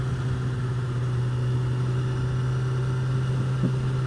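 A Honda CBR1000RR with its exhaust flapper valve disconnected idles steadily, a low, even engine drone holding close and unchanging throughout with no talk.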